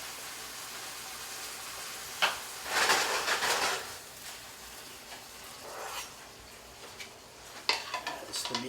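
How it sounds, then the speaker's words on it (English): A spoon stirs a meat mixture through a wine reduction in a pan, giving soft scraping swishes in a few bursts with light clinks between, close and fairly quiet with no voices. "Mix to incorporate."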